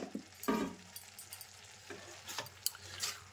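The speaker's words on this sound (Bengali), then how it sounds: "মিক্স করে নিচ্ছি খুব ভালোভাবে।" Amla pickle being stirred with red chili powder in a pan, a few soft scraping and sizzling strokes in an uneven rhythm, close and fairly quiet.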